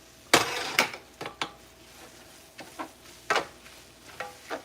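Pasta being stirred in a pan, a series of distinct scraping, clattering strokes at irregular intervals over a faint sizzle, fairly close, with no talking.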